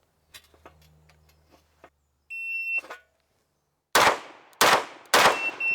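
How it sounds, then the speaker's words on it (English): Three sharp pistol shots from a race gun, drawn from a table and fired at a target 15 yards away, loud and evenly spaced, after a few faint clicks and an electronic shot-timer beep. "We are going to draw the gun from a table and hit 3 shots under 6 seconds"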